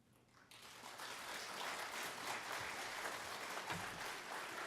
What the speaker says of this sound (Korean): 우리 김월림 선교사님 나오실 때 큰 박수로 환영해 주시기 바랍니다